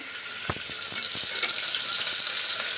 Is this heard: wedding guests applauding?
no